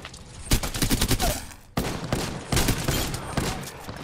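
Rapid automatic gunfire from a weapon in the battle royale game Apex Legends rattles in dense, loud bursts with a short break in the middle and then keeps going, with no talking.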